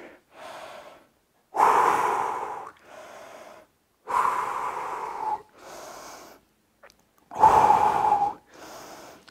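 Heavy panting breaths during a rest between push-up sets in a home workout, several loud, gasping exhalations and inhalations in an uneven rhythm with short silent gaps, close to the listener.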